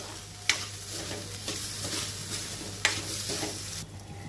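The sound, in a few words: sautéing barnyard millet with cucumber and chilli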